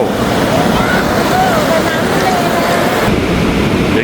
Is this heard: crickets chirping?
no